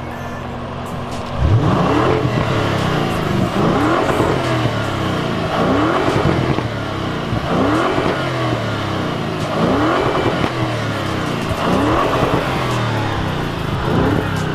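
A sports car engine with a Miltech exhaust revving repeatedly, rising and falling in steady cycles, loud and close with no voices.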